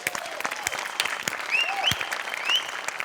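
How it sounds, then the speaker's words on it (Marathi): A studio audience at a Marathi comedy show claps steadily and enthusiastically, dense overlapping applause throughout, with a few sharp whistles rising above it near the end. "सगळ्यात आधी सेटिंगवाल्यांसाठी जोरदार टाळ्या."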